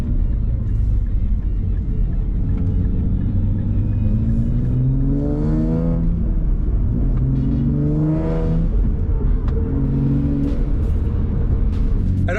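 A Nissan Z fitted with a UniClutch aftermarket clutch drives along, its engine loud and close, rising and falling through several revving gear pulls over a constant road rumble, with no talking.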